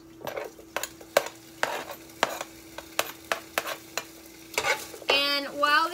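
Garlic, onion, red peppers, ginger and carrots stir-frying in a pan, with repeated sharp scraping strokes of a utensil over a constant sizzle, close and clear, ending in a louder burst of hissing.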